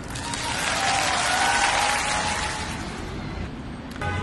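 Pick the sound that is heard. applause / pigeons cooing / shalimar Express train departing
applause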